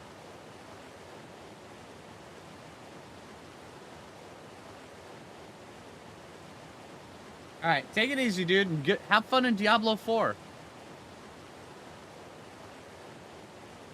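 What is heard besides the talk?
waterfall ambience in the video game ARK Valguero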